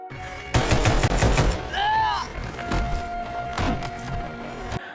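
Gunshots in a film ring out as rapid, loud bursts early on, followed by scattered impacts and later isolated shots, with narration running underneath.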